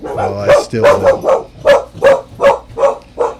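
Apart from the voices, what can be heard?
dog barking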